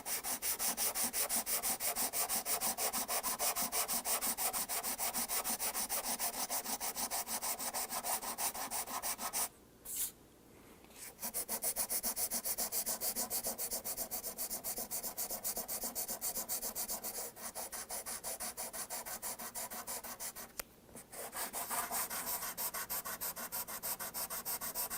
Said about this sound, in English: finish up the leveling with the corian block and the sandpaper